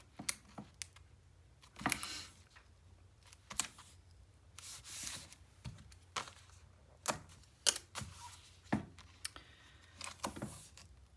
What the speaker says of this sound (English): Let's get some thick wide tape on this.